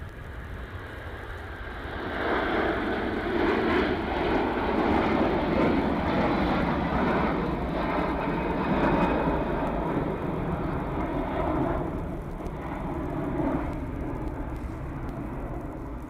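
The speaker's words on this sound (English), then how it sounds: "Air Canada just heading off as well." An Air Canada airliner takes off at Manchester Airport, its engines building into a loud, broad roar that holds steady for several seconds and then slowly eases as the aircraft climbs away.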